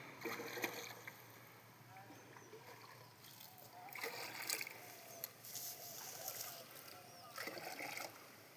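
Lime water is flung from a bucket across a large village pond in repeated splashes and slaps on the surface, each throw landing at moderate distance among faint outdoor background noise.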